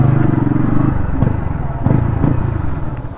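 TVS Ronin 225 motorcycle engine, 2023 BS6 model, running close by with a steady low harmonic throb and brief clattering blips, rising slightly in pitch near the end, with no one speaking.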